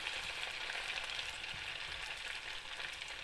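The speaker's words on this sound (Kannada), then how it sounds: "ನಾನು ಇದಕ್ಕೆ ಕಲಸಿರ್ತಕ್ಕಂಥ ಹಿಟ್ಟನ್ನು ಹಾಕ್ತಾಯಿದ್ದೀನಿ. ಇದನ್ನು ನಾವು ಡೀಪ್ ಫ್ರೈ ಮಾಡಬೇಕು." Sweet bonda batter deep-fries in hot oil, giving a faint, even sizzle with soft bubbling crackle running steadily throughout.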